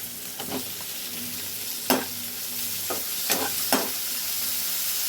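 Tomato added to a hot frying pan for a cabbage bhorta, sizzling steadily up close while a utensil scrapes and stirs in several sharp, separate strokes.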